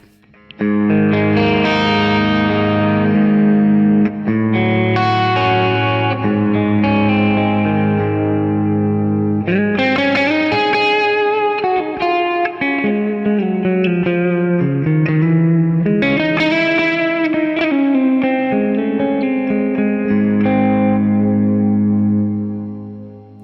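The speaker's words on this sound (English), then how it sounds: "I've got like a really nice dialed in sort of stereo delay piezo pickup mix" Electric guitar chords from a Music Man JP15, middle pickup position with piezo pickup mixed in, ring out with a spacious stereo delay, notes repeating and trailing off, played loud and alone over a long stretch.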